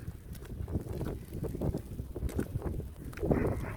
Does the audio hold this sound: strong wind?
yes